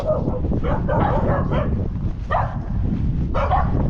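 Several dogs bark in short bursts, fairly close, over a low rumbling background in a Balkan backyard.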